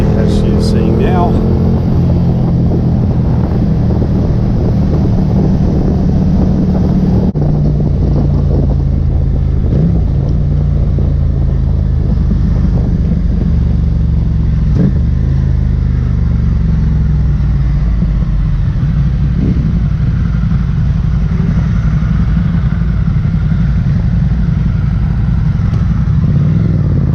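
A Ducati Scrambler Cafe motorcycle accelerates hard, its loud, steady engine roar shifting pitch through the gears over continuous wind and road noise, with a rider talking over it.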